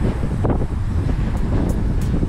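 Steady wind buffeting the microphone outdoors during a truck wash, a loud low rumble throughout with a few faint higher hisses.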